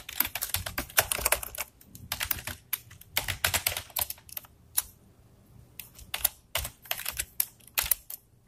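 Code typed on a computer keyboard: rapid runs of crisp, close keystrokes in several bursts separated by brief pauses, fairly loud and heard alone without speech.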